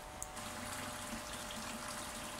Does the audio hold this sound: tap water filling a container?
yes